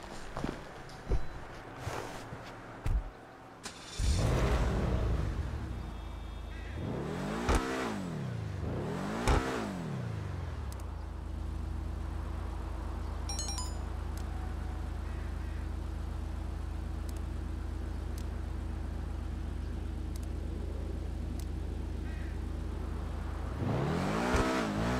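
A Benefactor SM722 sports car engine in GTA Online revs up sharply several times, rising and falling in quick bursts, then settles into a steady idle hum with faint clicks over it.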